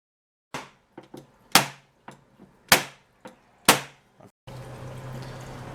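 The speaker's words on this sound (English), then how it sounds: "we ended up stapling 3/4 of the way around" Staples are driven into the edge of a guinea pig cage, a series of sharp, close snaps and thuds at an irregular pace, several of them loud, ending with a steady low rumble.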